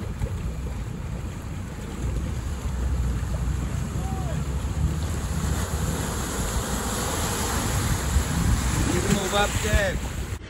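Several 4x4 off-road vehicles plough through deep water on an extreme trail in Hereford, with a steady rushing wash and heavy wind buffeting the microphone throughout.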